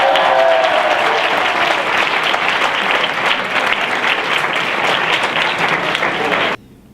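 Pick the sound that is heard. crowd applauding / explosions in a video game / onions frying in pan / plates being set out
crowd applauding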